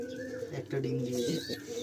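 Pigeons in a loft coo in soft, low, throaty rolls, one call overlapping another, close by, with faint chirps and light background noise.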